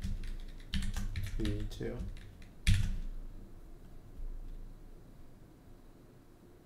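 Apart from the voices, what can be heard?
typing on a computer keyboard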